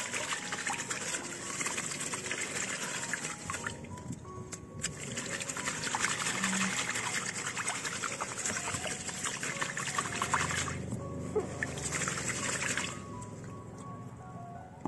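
Water pours steadily over water spinach seeds to rinse them in a container, a continuous close trickle and splash that thins briefly partway through before resuming.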